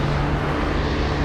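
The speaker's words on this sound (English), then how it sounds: "Starting up the engines, we have the FedEx 777. You can hear it from here." Jet engines of a FedEx Boeing 777 cargo plane spool up at Anchorage airport, a steady, dense roar with a low hum, continuous and fairly loud throughout.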